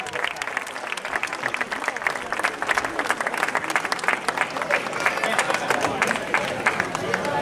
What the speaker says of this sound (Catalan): Va, un fort aplaudiment!